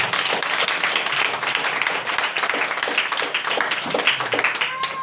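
Church congregation clapping hands together during a Hindi sermon, a dense, steady wash of many hands throughout, with a voice mixed in.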